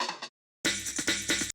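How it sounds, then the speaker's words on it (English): Short electronic drum fill in a dance track: a brief bright burst, a gap of silence, then a dense run of quick, hard-hitting percussive hits, close and alone. "at the end of every 4 and 8 bars, there are some short drum fills"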